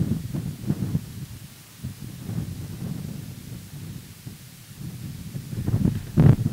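Steady wind buffeting close to the microphone at an abandoned air force base, low rumbling gusts that swell and fade, with a louder gust near the end.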